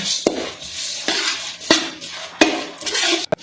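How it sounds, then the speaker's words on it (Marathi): Half a kilo of grated dry coconut roasts in a pan, with a close, steady rustling stir broken by a handful of sharp metallic knocks of a spoon against the pan at irregular intervals. "व्यवस्थित असं हे खोबरं परतून घेणार आहे लालसर होईपर्यंत"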